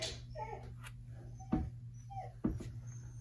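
A dog whimpers in the background of a quiet room, with two sharp yelping cries standing out amid softer whines, all faint under a low steady hum.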